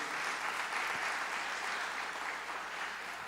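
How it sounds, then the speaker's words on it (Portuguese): A church congregation applauds together during a Portuguese-language service, a dense, even wash of clapping continuing without a break for a few seconds. "Você pode dar um forte aplauso ao Senhor?"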